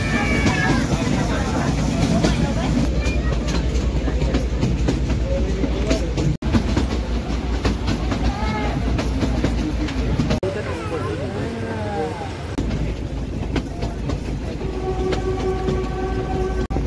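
Gujarat heritage train with its engine running on the rails, a steady close rumble and clatter of wagons throughout, with bursts of voices heard over it.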